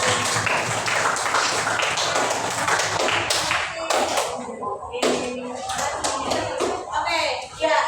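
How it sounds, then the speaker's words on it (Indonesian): A classroom group gets applause from students, a dense spread of claps and taps with children's voices mixed in, fading and breaking off partway through. "tepuk tangan untuk kelompok."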